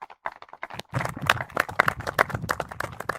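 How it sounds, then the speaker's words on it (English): An outdoor crowd at a junior golf tournament breaks into applause, scattered claps building into dense, lively clapping. "So I just want to give a round of applause to them as well."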